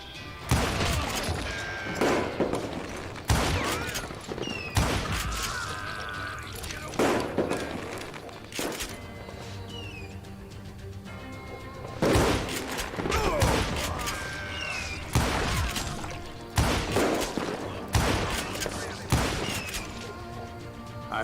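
Gunfire crackles through a video game shootout in a Western saloon, with repeated loud bursts of shots and crashes spread across the stretch, separated by short gaps of quieter ambience.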